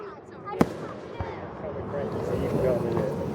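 Fireworks at a 2013 Lewisville display, one sharp bang followed by a smaller pop and then a crackling rumble, heard from a distance while people talk nearby.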